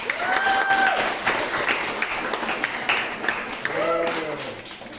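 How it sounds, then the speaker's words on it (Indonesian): Students in a fiqh classroom lesson applaud together, a burst of clapping that starts strong and gradually tapers, with voices calling out over it near the start and again toward the end. "Tepuk tangan untuk kita semua"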